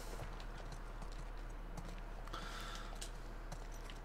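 Horse hooves clip-clop in The Last of Us Part II, a steady low plodding rhythm of footfalls under a constant low hum and faint ambient game sound, with no talk.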